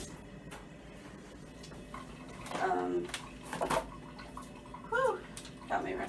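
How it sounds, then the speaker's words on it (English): Tap water runs in a home kitchen while something is rinsed off during brownie baking, a soft steady wash under light clinks, with a person talking over it. "rinse that off"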